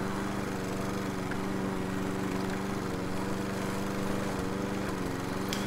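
A lawnmower engine in a video game drones continuously and evenly with a low, buzzing hum throughout, steady in level with no pauses and no talk over it.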